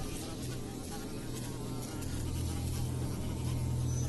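Flies buzz continuously and close, a droning hum with a steady low whine and no speech.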